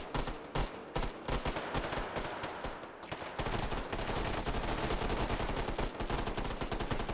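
Friendly gunfire in the VR game Hot Dogs, Horseshoes & Hand Grenades on HTC Vive: sharp rapid bursts of shots at first, then an unbroken stream of automatic fire from midway on, with no talking.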